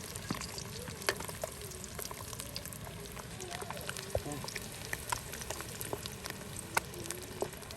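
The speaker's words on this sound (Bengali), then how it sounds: "এই যে দেখুন ডিম ভাজা কিন্তু শেষ।" Eggs frying in a pan, a soft continuous sizzle and crackle with occasional clinks, fairly quiet and steady throughout.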